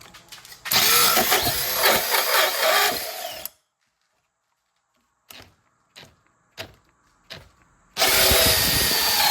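A Dewalt cordless drill bores a 3-inch hole into thick wood, loud grinding whir in a long burst, then several short trigger pulses, then another full drilling burst, close and without talk.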